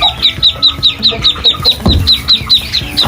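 An agitated mother duck near her ducklings gives loud, rapid, evenly spaced quacking calls close by, repeating about five times per second.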